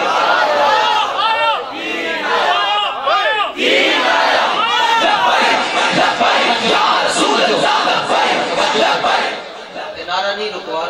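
A large crowd at a religious gathering in Rawalpindi chants a slogan in loud, overlapping unison, with many voices shouting together in surging waves across the whole stretch.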